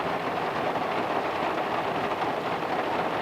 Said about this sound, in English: it's a rainy day at Pungo